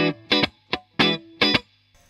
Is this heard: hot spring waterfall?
no